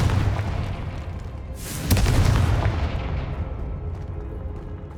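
Confringo fire spell exploding in the video game Hogwarts Legacy, a sharp heavy boom with a cracking burst, followed by a rumbling tail that slowly fades.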